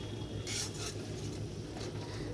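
Tadka masala sautés in a pan in a village kitchen, with a faint low sizzle and a few scraping stirs and utensil clinks, most noticeable around the half-second mark.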